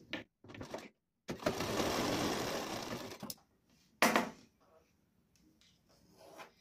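Sewing machine stitching a folded strip along the edge of a Sabyasachi-style blouse, a steady whirring run of about two seconds, then short bursts and handling noises, with speech before and after.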